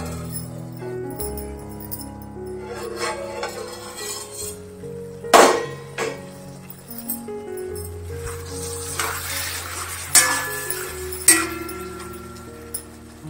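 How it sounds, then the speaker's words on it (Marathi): A lid is lifted off a pan of potato and flat bean sabji as it cooks: one sharp clink midway, then a few lighter clinks, close and fairly quiet over a steady low background hum. "पुन्हा आता आपण झाकण उघडून बघूया"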